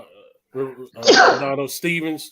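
One sneeze bursts out between bits of a man's speech on a sports podcast call, with talk before and after it.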